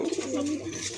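A pigeon in a breeding loft gives a short, close, throaty coo that rises and falls within about a second.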